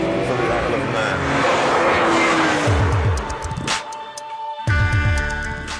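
A BMW E46 M3 CSL races along Isle of Man roads, its engine roaring loudly past with climbing revs and gear changes, a brief dip, then the howl surging back up close.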